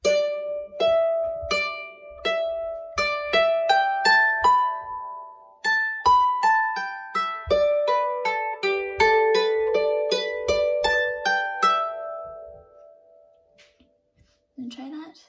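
Harp plays the second half of the B part of a Manx tune, a clear sequence of plucked notes descending through a scale with ringing sustain, close and alone, fading out at the end.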